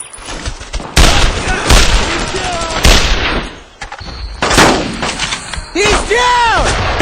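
Loud bursts of rifle and machine-gun fire from the World War II shooter game Brothers In Arms: Road to Hill 30, repeated volleys with sharp cracks and rumbling echoes, mixed with shouted voices and a whistling falling tone near the end.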